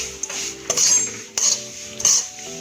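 A metal spoon clinks and scrapes against a pan while stirring a modak mixture with crushed nutmeg and cinnamon powder, giving several close, bright strikes in an uneven rhythm.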